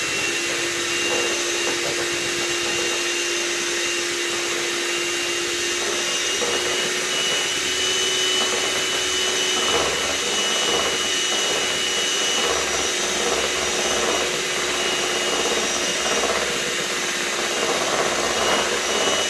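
Electric hand mixer beating carpet and rug cleaning product into foam in a small tilted basin, a steady loud motor whine running continuously throughout with no talk.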